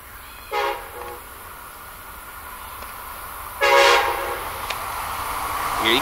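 An Amtrak train with track geometry cars blows its horn twice, a short blast and then a longer one, over the steady rumble of its approach.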